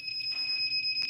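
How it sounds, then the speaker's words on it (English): Repeated electronic beeps from a heat press during sublimation of UV color-changing tumblers, steady high tones with a brief louder burst near the end, close and alone without talk. "it's a lot of beeping, but we're just getting it down"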